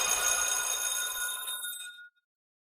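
A telephone bell rings steadily for about two seconds, a bright metallic trill that stops abruptly, followed by silence.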